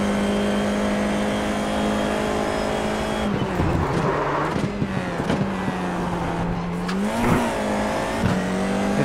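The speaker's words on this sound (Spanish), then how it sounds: "He clavado ruedas en la frenada" A Formula iR-04 open-wheel race car in iRacing at Laguna Seca, engine droning steadily before a hard braking zone where the wheels lock, bringing a rough, scrubbing tire noise and shifting engine pitch with downshifts.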